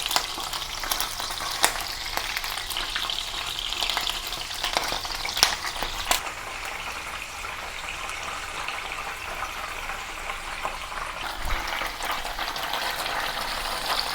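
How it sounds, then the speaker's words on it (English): Tofu frying in a pan of hot oil gives off a steady, moderately quiet sizzle with scattered sharp crackles and pops. "Heat some oil in a pan. When it is heated to medium, add the tofu into the pan single layer."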